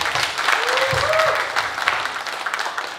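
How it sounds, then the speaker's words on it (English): An audience at a model hunt event claps loudly for five contestants, a dense burst of applause that swells and then thins out, with voices audible over it. "can we give a big round of applause for all the five contestants?"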